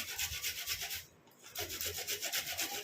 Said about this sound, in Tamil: இந்த மாதிரி துருவி எடுத்துக்கலாம்.